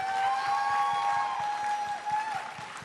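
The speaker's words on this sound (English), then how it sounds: "Guys, please give a round of applause to Richard Knack." A convention panel audience at BlizzCon 2011 claps for Richard Knack in a brief burst of hall applause, steady at first and then thinning, with a faint tonal hum underneath.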